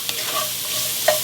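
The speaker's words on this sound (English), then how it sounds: "You want that spice to really fry up." Steady sizzling of spices frying in a hot pan, a bright crackling hiss with a couple of small pops, close and continuous.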